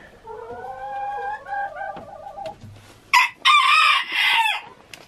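Backyard chickens and a rooster: a rooster crows clearly at the start, followed by loud, close hen squawks and clucks in short bursts.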